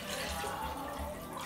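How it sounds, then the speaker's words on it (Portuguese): Water poured from a container into a cooking pan to boil chicken breast after sautéing with garlic and olive oil, a steady close splashing and trickling stream running through the whole short moment with no talk. "Coloca água o suficiente que dê para cozinhar o peito de frango."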